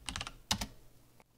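Quick, light taps on a computer keyboard as commands are typed to log into a Raspberry Pi, a short cluster of clicks then two more, close and quiet.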